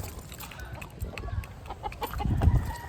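A backyard flock of chickens in Parañaque clucks in short, irregular bursts nearby, growing slightly louder toward the end, with no one speaking.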